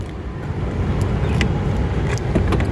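The door of a 2022 Tata Tiago CNG XM hatchback is unlocked by hand and opened, giving a steady, close mechanical rustle with a few faint clicks and no voices.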